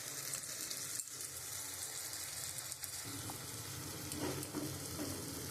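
Spices with salt, turmeric and chili powder frying in oil for egg curry, a steady close sizzle with a few soft stirring scrapes and taps, fairly quiet and without talk.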